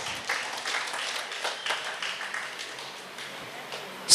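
Audience applause for a school head teacher at a community association's student awards ceremony, a sustained broadband wash of many hands clapping for about four seconds at moderate level.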